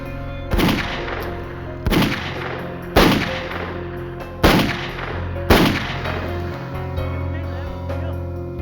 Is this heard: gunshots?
yes